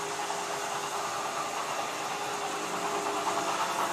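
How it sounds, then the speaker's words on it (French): A century-old cast-iron pump made in Paris, irrigating Camargue rice fields, gives a steady, unbroken mechanical drone with a dense hiss and no pauses. "Ce sont des pompes en fonte qui étaient fabriquées à Paris"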